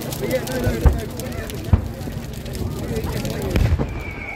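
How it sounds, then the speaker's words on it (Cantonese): Distant fireworks over Lewes town centre on Bonfire Night, with a few dull thuds and pops spaced out beneath a steady crowd murmur and nearby talk. "而市中心嗰邊嗰啲煙花咧都唔差喎，都幾靚喎。"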